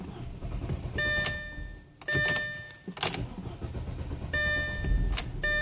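A car with an idle fault cranks and fires up, then runs roughly at idle, its engine surging and faltering; repeated starter bursts and clunks are heard up close with no talk.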